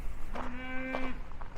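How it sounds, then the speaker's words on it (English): Cows in a field near Mission Peak Trail give a single drawn-out low grunting moo lasting about a second, fairly close over steady outdoor background noise. "You know, cows really don't make a moo sound, more of a grunt."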